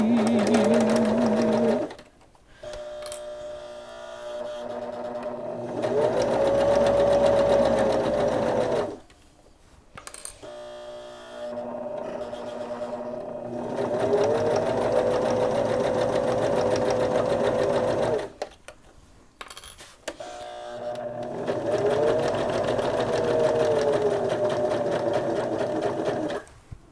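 A sewing machine back stitches a Kindle sleeve, running in long whirring bursts with a rising and falling motor hum, broken by short pauses between passes, close and steady with no talking.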